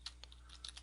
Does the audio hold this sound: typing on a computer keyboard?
yes